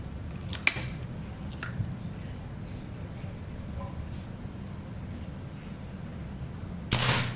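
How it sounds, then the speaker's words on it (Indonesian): A single sharp, snappy PCP air rifle shot near the end, preceded by a couple of faint clicks over steady outdoor background hiss. Aluminium 38 mm tube rifle charged to 2700 psi, 30 cm seamless barrel. "Tembakan ke 10."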